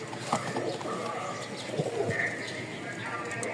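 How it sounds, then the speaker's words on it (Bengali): Pigeons coo softly nearby with low, rolling calls over a busy background, and a person talks intermittently. "তো এখানে 2 পেয়ার কবুতর আছে।"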